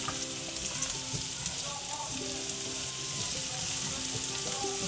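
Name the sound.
onion added to frying potatoes in pan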